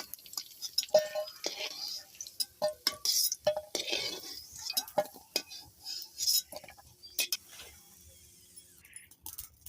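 Metal utensils clink and scrape against a pan as fried garlic is lifted out for a spicy garlic kasha, giving scattered light taps and clatters at close range; a voice speaks softly in places.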